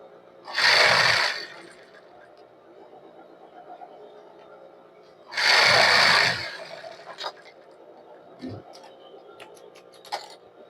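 Sewing machine stitching a cropped top with elastic, two loud bursts of rapid mechanical needle hammering a few seconds apart, close by, with quiet motor hum and faint handling noises between them.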